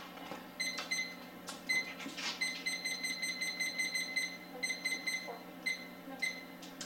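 A brewery timer sounds repeated high electronic beeps in short bursts during a reset, fairly close, over a steady background hum of brewing equipment.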